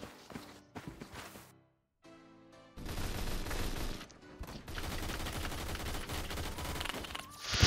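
Gunfire in the Roblox game Jailbreak, with bursts of rapid shots that start, break off for a short pause, then return as sustained, loud volleys.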